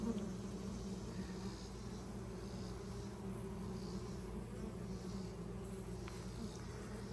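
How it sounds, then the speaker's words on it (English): A dense, steady drone of many honeybees buzzing close up in a healthy, crowded hive, continuous and unbroken throughout, with no voices. "There's tons of bees in it."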